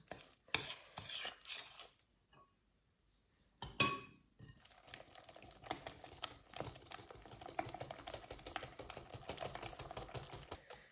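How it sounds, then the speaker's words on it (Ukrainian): A whisk beats a melted butter mixture in a bowl for buns, making quick, steady metallic clicking and scraping against the sides. A brief clatter comes first, then a short pause, then continuous close whisking. "Зараз будемо перемішувати вінчиком."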